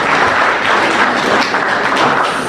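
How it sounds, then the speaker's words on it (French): Sustained applause from a large audience at a youth public-speaking contest, dense and steady clapping filling the whole space without pause. "Donc ils méritent les applaudissements,"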